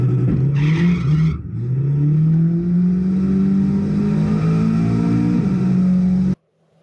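Toyota Hilux with a turbocharged 3RZ engine launches and revs hard, loud and close, the engine note climbing steadily with a brief tire chirp before cutting off abruptly.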